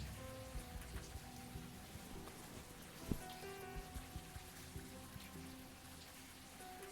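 Steady rain falls in the video game Unavowed, a soft continuous patter with scattered louder drops and one sharper splash, faint and alone without talk.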